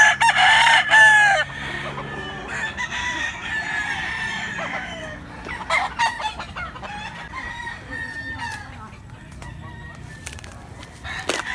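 Two-year-old fighting rooster crowing loudly and clucking at a gamecock sale in Cebu, with repeated close crows and clucks and other birds faintly behind.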